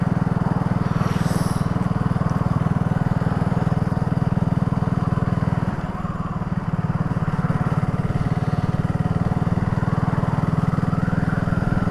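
A BSA Gold Star single-cylinder motorcycle engine thrums steadily and loudly while being ridden, a strained low drone under heavy load that briefly dips around a gear change before pulling on, with no voices.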